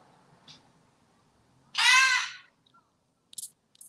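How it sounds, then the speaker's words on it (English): A pet parrot squawks once loudly in the background of a quiet indoor room, with a few faint chirps and clicks before and after. "It's a parrot behind me, so he be making random noises."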